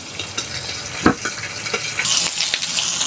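Close, loud sizzling of small fish frying in hot oil in a pan, with crackles and pops and a few clinks from stirring.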